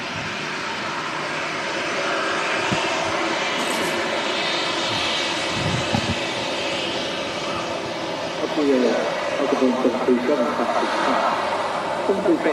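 A Ryanair Boeing 737-800 arriving from Girona at Manchester Airport, its jet engines a steady broad roar that swells near the end, with someone talking over it throughout.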